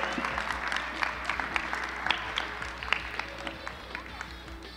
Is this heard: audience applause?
yes